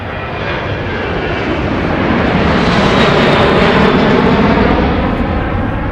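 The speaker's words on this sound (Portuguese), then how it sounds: "ouvindo o motor dos aviões a gente vai lembrando" Loud, steady roar of airplane engines close by at an airport, a continuous broad rumble that swells slightly midway and holds, with no voices.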